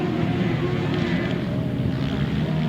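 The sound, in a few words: grasstrack racing motorcycle engine passing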